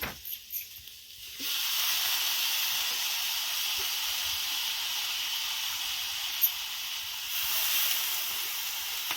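Lentils tipped into a hot pan while making a village-style onion chutney give a steady, loud hissing sizzle that starts after a quiet second and holds evenly to the end, with one sharp tick midway.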